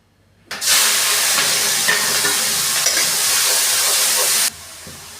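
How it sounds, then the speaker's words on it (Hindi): Tomatoes and green chillies fry in a pan for pasta, giving a loud, steady sizzling hiss that starts abruptly, holds evenly for about four seconds, then cuts off. "टमाटर भून गए हैं"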